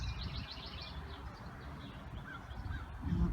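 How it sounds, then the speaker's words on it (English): Crows caw in a cottage garden in Central Ohio in spring, their rough calls repeating faintly over a low, rumbling outdoor background. "You can still hear those crows."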